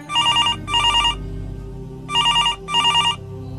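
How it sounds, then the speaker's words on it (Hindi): A mobile phone rings with two double bursts of a bright electronic trill, separated by a pause, loud and close over a low background hum. "तभी उसके मोबाइल की घंटी बजती है।"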